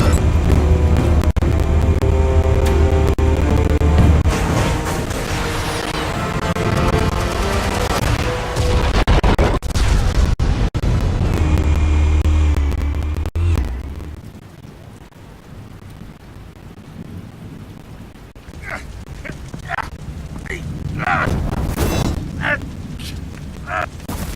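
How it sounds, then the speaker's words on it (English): Video game explosions from a Batman title, heavy booms and rolling blasts with bursts of gunfire-like crackle, loud and dense at first, then quieter with scattered sharp pops later on. "Explosives armed. Fire when ready."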